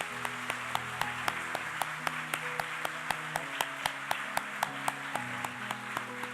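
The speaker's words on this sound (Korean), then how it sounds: "이 청년들을 위해서 여러분 크게 응원의 박수 한번 같이 해주십시오" A church congregation claps together in a steady, rhythmic beat, about three claps a second, cheering on young people during a New Year's Day Sunday service, over sustained organ-like tones.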